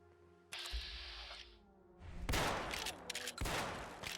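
Mossberg shotgun fire in Fallout 4: a few sharp, loud blasts close by with echoing tails, set apart by short gaps, then a burst of mechanical clatter.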